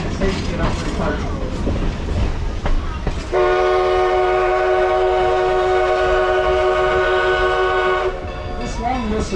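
A long, loud steam train whistle on the Black Hills Central 1880 Train, Hill City to Keystone, South Dakota, blows steadily for several seconds amid rumbling train noise, starting and stopping abruptly.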